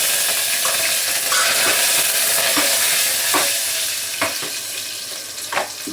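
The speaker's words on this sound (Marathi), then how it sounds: "कढीपत्ता आणि लसूण दोन्ही एकत्र टाकून देते." Mustard seeds, curry leaves and crushed garlic hit hot oil and set off a loud, close, continuous sizzle, with sharp stirring scrapes coming every second or so.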